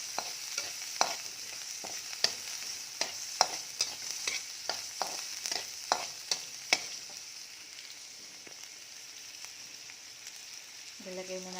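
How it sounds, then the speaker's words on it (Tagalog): Garlic and onion sauté in a little oil, a steady sizzle broken by repeated sharp scrapes of a utensil stirring the pan, a clatter closing the sequence. "magisa na tayo ng bawang at sibuyas"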